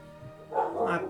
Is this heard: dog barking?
yes